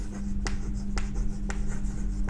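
A pen or chalk writes on a board in a chemistry class, making steady scratchy strokes with a sharp tap about every half second over a constant low hum, with no talk.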